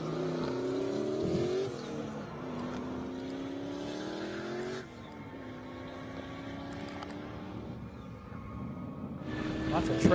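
A Chevrolet Camaro 1LE race car, showing about 800 horsepower, drives an airstrip track with a droning, shifting engine tone that rises and falls and builds near the end. A commentator talks over it throughout.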